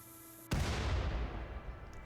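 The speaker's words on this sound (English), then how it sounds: "That explosion did 500 damage" A single loud boom bursts out suddenly in the RimWorld game as an explosion strikes reinforced walls, then decays into a long rumbling roar that fades slowly over about a second and a half.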